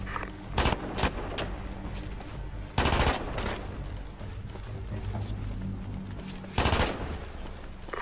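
Bursts of automatic gunfire and sharp single shots crack in a Ghost Recon Advanced Warfighter 2 combat mission, loud rattling volleys separated by a low rumbling game background, with no talk.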